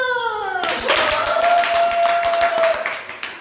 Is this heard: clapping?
yes